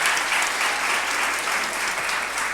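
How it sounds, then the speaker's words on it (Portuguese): A church congregation bursts into applause for a newly married man receiving a blessing, dense continuous clapping from many hands filling the room at steady strength without pause. "Dá a salva de palmas para ele."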